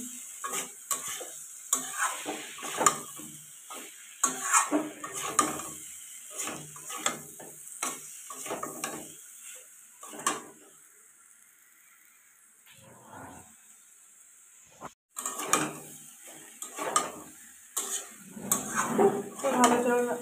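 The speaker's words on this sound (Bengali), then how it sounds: "মিট মশলা দিয়ে ভালো করে কিন্তু নাড়াচাড়া করতে হবে" Spiced jackfruit with meat masala powder is stirred in a pan for a prawn curry, a busy run of close scraping and clattering spatula strokes that pauses briefly, then resumes.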